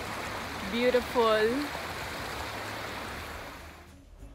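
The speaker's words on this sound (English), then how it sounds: "And over here is a small stream." A small, clean mountain stream at Ebenalp in Appenzell in the snowy Swiss Alps flows with a steady, soft rushing hiss. A voice speaks briefly over it near the start.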